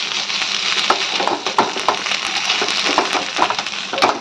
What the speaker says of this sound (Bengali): মাছ ভাজা হয়ে গেছে, এবার তিতলি চিংড়ি মাছটা ভেজে নেব